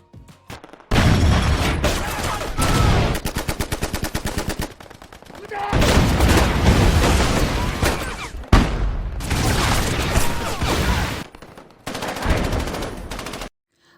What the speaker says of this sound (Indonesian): Jenderal Kuribayashi menyuruh prajuritnya untuk memulai tembakan